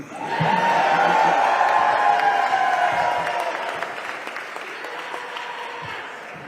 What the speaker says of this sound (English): Y'all just keep cheering.